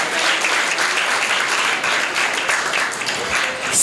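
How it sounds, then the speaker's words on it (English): An audience at a school Balsabha celebration applauding, with dense, steady clapping from many hands filling the hall and staying loud throughout. "Please give her a big round of applause."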